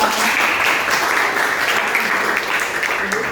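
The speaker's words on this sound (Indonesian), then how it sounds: "Beri tepuk tangan meriah untuk kelompok 3" Classroom applause for a student group after its presentation, a short burst of many hands clapping together, fairly loud and even, with a few faint voices underneath.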